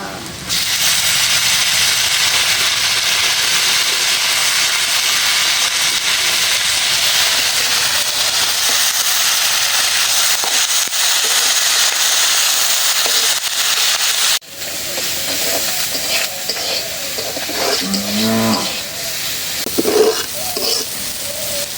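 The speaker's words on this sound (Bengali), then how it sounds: "বাদামটা আগে দিয়ে দিচ্ছি হ্যাঁ বাদামটা একটু হালকা ভাজা হবে" Peanuts fry lightly in a pan with a constant close hiss and crackle. The sizzle settles slightly after a sudden shift midway, and a few scraping stirs follow toward the end.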